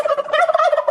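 A single turkey gobble sound effect rings out loud and close, a rapid warbling burst under a second long with no talk.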